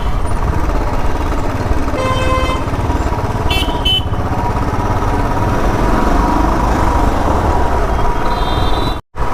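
A BS VI motorcycle engine drones steadily while riding on an open road, with loud continuous rumble and wind, a few brief honks or whistles cutting through, and a sudden dropout near the end.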